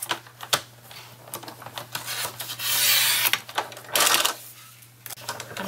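Paper is trimmed to even up its edge for a craft booklet: a run of close, dry scraping and slicing strokes with sharp clicks, a longer rasping pass in the middle, no talking.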